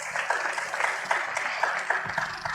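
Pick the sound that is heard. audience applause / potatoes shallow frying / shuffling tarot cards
audience applause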